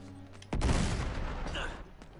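Shotgun blast in Uncharted 3: Drake's Deception, one loud booming shot after a quiet start, its roar decaying over about a second and a half, with a fainter thump near the end.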